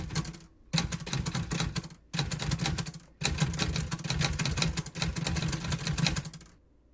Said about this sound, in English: I wanted to let you listen to the little clicky-clacky of the typewriter.